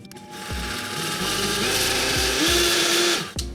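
A blender whirs loudly and continuously for a few seconds, its motor pitch shifting as it churns a thick Peruvian aji verde green sauce, then stops.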